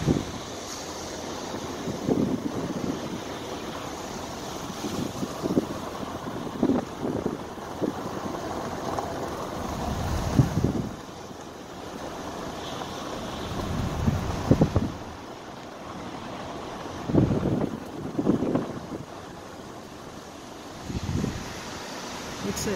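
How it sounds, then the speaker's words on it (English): Big waves breaking on the shore at the southern point of Beaver Island, with steady wind buffeting the microphone and surf surges rising and falling throughout, close and fairly loud. "Big waves."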